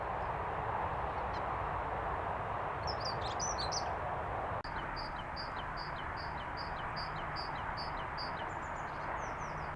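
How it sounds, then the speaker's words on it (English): Faint birdsong from chaffinch, Cetti's warbler, robins and goldfinch drifts in from a distance: a few scattered chirps, then a run of evenly spaced high notes, over steady background hiss. "Catching bits of little song from different birds."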